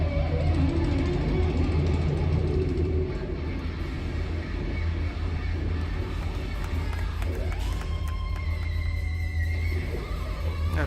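An electric guitar fitted with a Fernandes sustainer, played live at a concert, imitates a horse's whinny with sliding, wavering pitch sweeps. The guitar rises over a constant roar of crowd noise and cheering.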